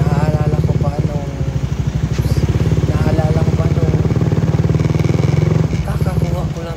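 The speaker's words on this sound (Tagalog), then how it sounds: "kakakuha ko lang talaga ng motor na to" A motorcycle engine runs with a steady rapid putter close by, its throb continuing under a voice talking over it.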